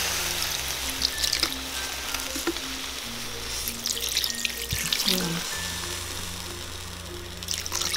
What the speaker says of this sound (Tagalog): Ngayon po ay maglalagay po ako ng tubig para maluto po yung ating